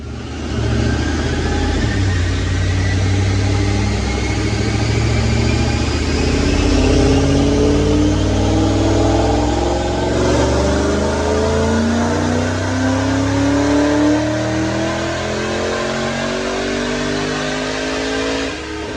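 A supercharged automatic Ford Mustang California Special runs hard on a Dynojet dyno, its engine roaring loud and steady, rising in pitch through a long continuous pull with a whining supercharger tone.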